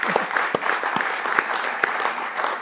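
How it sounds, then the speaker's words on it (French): Applause from those attending a council session, a dense patter of many hands clapping steadily, fairly close and loud, with no one speaking over it. "On peut applaudir."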